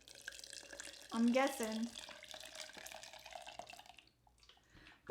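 Hot water being poured into a cup while making bubble tea, a brief rising gurgle and trickle near the start, followed by splashy liquid sounds as someone talks over it.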